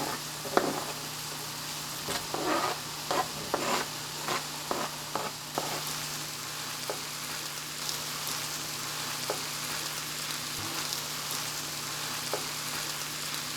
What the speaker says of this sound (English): we're going to put in the vegetables now that the meat is browning, and we're going to mix it all in nice and good